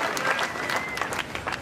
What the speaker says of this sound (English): Plenty of crowd, ladies and gentlemen.